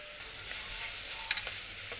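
Ginger garlic paste dropped into hot oil for vegetable pulao biryani, giving a brief close hiss and sizzle with a couple of sharp spatters partway through.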